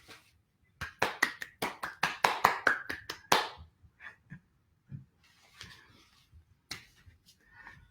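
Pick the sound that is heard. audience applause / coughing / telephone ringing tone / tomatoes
audience applause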